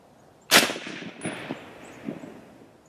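A single loud, sharp rifle shot from an M1 Garand rings out at a 100-yard outdoor range on a mild December day, followed by a decaying echo and a faint distant metallic ping from the target.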